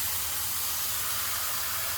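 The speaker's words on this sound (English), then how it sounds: "you can hear the sizzling is slowed down, and it's going to disappear because there's no more heat under there" Mushrooms in a pan sizzle after the stove heat is switched off, a steady, fairly loud hiss with no breaks and no voices.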